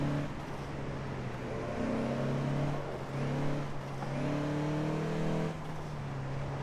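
A 2016 Toyota Land Cruiser accelerates in second gear in the racing game Forza Horizon 4, its engine droning steadily with pitch climbing in repeated surges and brief dips between pulls.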